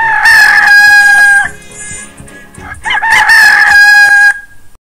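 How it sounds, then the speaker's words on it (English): A rooster crows loudly and close by, two long cock-a-doodle-doo calls separated by a brief pause, with no talking. "The sound of the rooster is called cluck. It is also called cock-a-doodle-doo."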